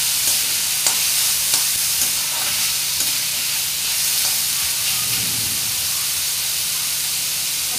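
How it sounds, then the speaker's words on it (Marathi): Garlic sautéing in a pan for a drumstick-leaf bhaji gives a steady sizzle and hiss, with light scraping stirs and a few sharp utensil taps near the start, loud and close, with no talk. "लसूण ॲड करूया। व्यवस्थित परतून घेऊया।"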